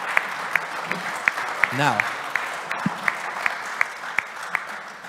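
Sparse audience applause at a climate tech summit in Vienna, isolated claps in a slow irregular rhythm, with a voice speaking briefly over it.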